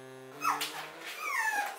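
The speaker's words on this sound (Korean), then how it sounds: "치즈가 자기 오빠 괴롭히는 줄 알고 지금 낑낑대요" A small dog whimpers during a paw wash indoors, a thin, high rising-and-falling whine in two drawn-out cries, close and fairly quiet with no talk.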